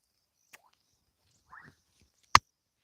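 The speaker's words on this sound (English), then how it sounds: "That frog making the plop sound." In a quiet outdoor setting, a frog gives one sharp, short plop, preceded by a few faint, scattered ticks.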